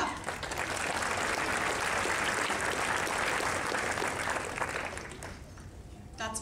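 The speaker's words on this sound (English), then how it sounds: "Clap." Applause from an audience at a Toronto speaking event, a dense steady wash of clapping hands lasting several seconds before thinning out near the end.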